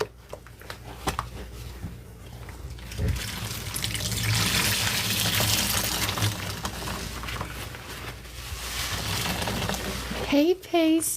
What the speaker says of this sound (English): You are catching the sponge rinse. It is warm water and in-Sueño fabric softener.